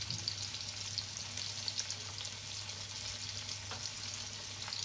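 Trevally steaks frying on a tawa over a medium flame give off a steady, even sizzle at close range, a soft hissing crackle with occasional small pops and a low hum underneath.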